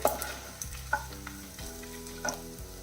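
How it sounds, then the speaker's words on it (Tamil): Ingredients with chillies sauté in a pan over medium flame for a ragi idli chutney, a continuous soft sizzle broken by a few light stirring scrapes and knocks, with no talking. "அதையும் சேர்த்து நல்லா வதக்கிடலாம்"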